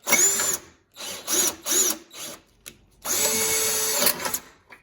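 A Bauer cordless power drill drives screws in several short bursts, then one longer sustained whir, its whining motor close and fairly loud with brief pauses between.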